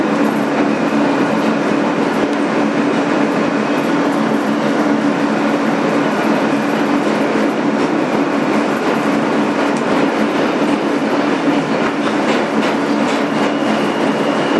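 2008 Kawasaki R-160B N subway train running on the BMT Sea Beach local line, a loud continuous rolling roar from inside the car with steady rhythmic wheel clatter and a faint tonal motor whine.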